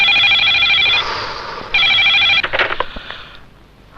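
Telephone ringing on a call placed to a police station: two loud electronic ring bursts with a short gap between them, followed by brief handling clatter, close and alone without speech.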